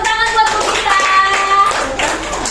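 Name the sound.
audience clapping hands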